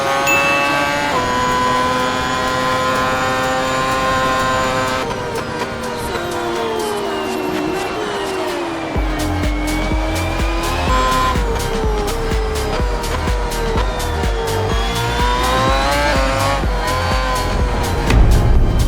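A V8 Formula race car in a racing video game, its engine screaming loudly through rising and falling gear changes, with tire squeal and rumbling bumps as it drives, no talking.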